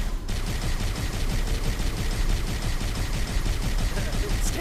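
Rapid automatic gunfire in Halo CE pours out in a dense, unbroken stream of loud shots, a rhythmic rattling barrage that carries on for several seconds without pause.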